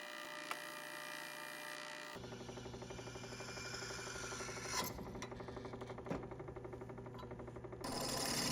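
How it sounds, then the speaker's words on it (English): Small drill or Dremel-type rotary tool boring a 1/8 inch hole into a knife pommel for a brass pin, on a deer antler handled knife made from an old file; a steady whirring, grinding buzz runs close and continuous after a brief quieter start. "a 1/8 inch diameter hole will be drilled in the pommel"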